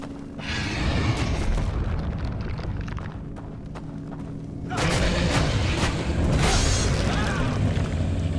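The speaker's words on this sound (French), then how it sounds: "Quelle était cette explosion ou quoi, je ne sais pas" An explosion in Lords of the Fallen, a heavy rumbling blast that swells midway and sustains with crackling debris over ongoing game noise, with a player talking.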